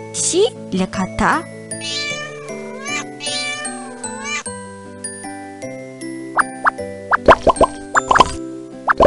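Cartoonish synthesized meows in short bursts in the 1999 PC game Reader Rabbit Playtime for Baby, over a bright musical backing, with plinking notes and a few sharp plops near the end.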